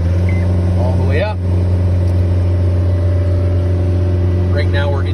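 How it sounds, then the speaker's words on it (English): A John Deere 331G compact track loader engine rises in RPM as the throttle is opened during hydraulic calibration, a loud steady droning hum, with brief rising tonal sweeps near the start and end. "we'll increase our engine RPM over here on our throttle"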